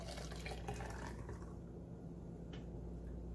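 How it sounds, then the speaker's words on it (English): Homemade mint chocolate chip ice cream base pours steadily into a container as a close, continuous liquid stream that thins and quiets toward the end, with no talking. "we're just going to pour this base right in"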